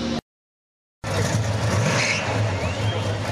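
A 1967 car with a small block 289 V8 engine at a park car show, a steady low engine rumble after a short silent gap, with outdoor crowd noise around it.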